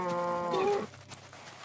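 A cow in the Minecraft video game lets out one long, tonal moo that fades after less than a second, leaving quiet background hiss.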